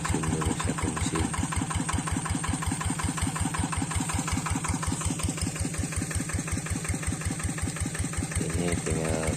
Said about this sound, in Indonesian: sambil nunggu teman Mang Asep manasin dulu satu mesin